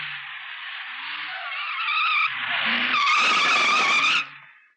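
A car skids with a long, shrill tire squeal that rises and shifts pitch, swelling louder midway before cutting off abruptly and fading, close and alone without talk.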